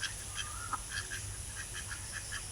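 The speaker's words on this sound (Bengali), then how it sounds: "এগুলো সব আমাদেরই হাঁস" Domestic country ducks give short quacks in a loose, repeated rhythm, fairly faint over a steady low background hum.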